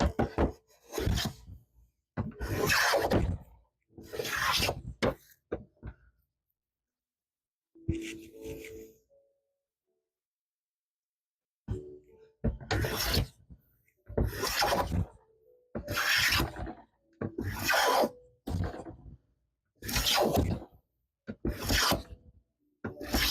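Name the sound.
hand plane shaving wood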